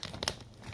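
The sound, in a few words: plastic food packaging bag crinkling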